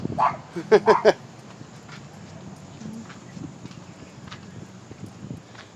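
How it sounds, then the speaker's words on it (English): A little dog gives a quick burst of four or five sharp, high yips close by on a town walking tour, followed by quieter street ambience with faint movement. "There's a little dog."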